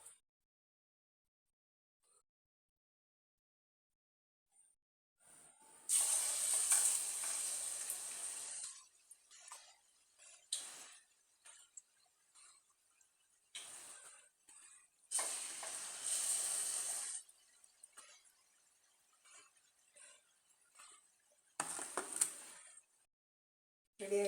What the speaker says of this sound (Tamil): எண்ணெய் சூடாகிடுச்சு. இப்போ வந்து ஃப்ரை பண்ணி எடுத்துக்கலாம்.